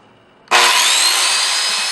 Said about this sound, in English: I'm going to start with a circular saw just because it's a little bit quicker to get in there